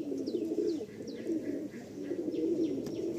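Madrasi pigeons coo softly in a repeated low rolling rhythm, with a few faint higher chirps from other birds in the background.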